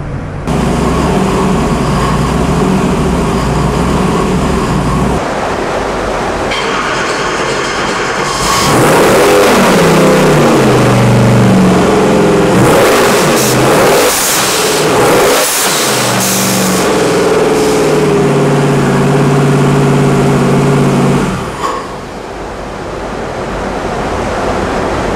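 A twin turbo Ford hot rod engine of about 509 or 427 cubic inches, boosted to 36 PSI, revs hard. It delivers a loud, sustained roar with rising and falling pulls in the middle, then settles back to a steady idle rumble.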